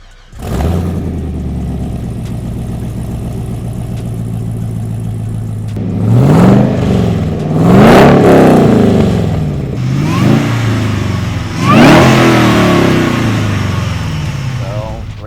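Supercharged C2 Corvette Split Window with a 6-speed manual and about 600 horsepower: a steady idle rumble, then loud repeated revving surges as the engine climbs through gears, with voices now and then.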